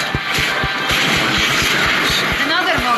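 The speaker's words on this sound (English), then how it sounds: "Another mortar thrown at us." Mortar explosions in the video game Wuthering Waves, a steady series of sharp thudding impacts about every quarter second, loud and close over a dense backdrop of music and battle noise.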